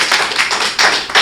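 An audience at a Hindi kavi sammelan poetry gathering claps in a short, loud burst of dense applause.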